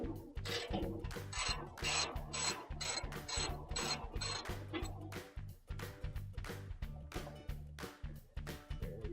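A ratchet fitted with a number 2 bit backs out square-head screws in a dryer. The pawl clicks in quick rhythmic bursts, close and fairly quiet.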